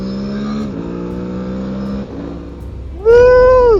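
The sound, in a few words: Aprilia Tuareg 660 motorcycle accelerating using quick shifter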